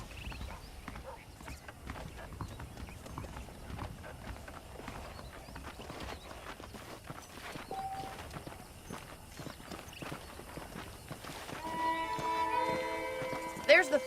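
Hooves of saddled horses in the Red Dead Redemption video game thud in a steady walking rhythm under a wash of game ambience, with a musical tone rising near the end.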